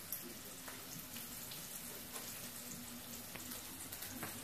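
Meat sears in a pan, a faint, even sizzle hissing steadily throughout with a few soft clicks, quiet and unaccompanied by speech.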